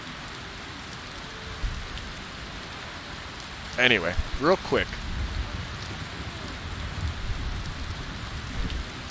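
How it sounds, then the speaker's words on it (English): Rain falls continuously in a video game, a soft even wash with faint low rumbles, while someone speaks briefly over it. "And it's still raining."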